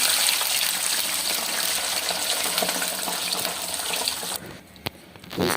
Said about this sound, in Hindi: तो इसके बाद हम इसमें पानी डाल देंगे।